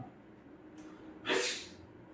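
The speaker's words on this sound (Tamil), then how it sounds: "ஒரே ஒரு தும்மல் வர மாதிரி இருக்கு" A single sharp sneeze bursts out loud and close after a brief sniffing intake of breath, standing alone against quiet room noise.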